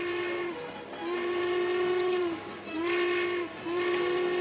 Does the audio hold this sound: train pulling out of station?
yes